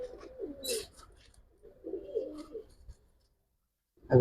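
Giribaz pigeons cooing close by in two rolling, throaty bouts separated by a pause, followed by a sudden loud thump at the end.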